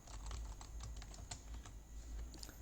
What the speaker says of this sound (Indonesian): Tambahkan jawabannya untuk pilihan B-nya.